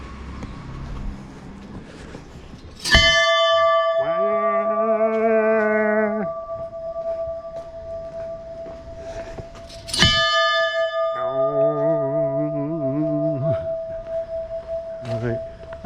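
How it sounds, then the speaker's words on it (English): Bells at the Bhairav Shiva temple are struck twice, each a sharp clang that rings on with a long, wavering hum, loud and close, with faint voices in the background. "Let's ring these bells."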